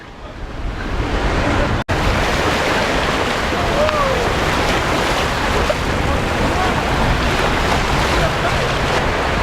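Ocean surf at a beach in Noumea, New Caledonia washes in as a steady, loud broadband roar with wind buffeting the microphone, continuous throughout with a single sharp click near the start.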